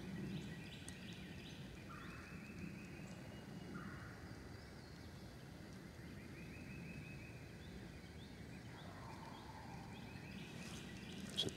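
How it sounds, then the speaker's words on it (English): Wild turkey gobbling far off during a spring morning chorus in the woods, several faint short calls spaced a few seconds apart over a quiet outdoor background, with no talking. "It's a distant bird."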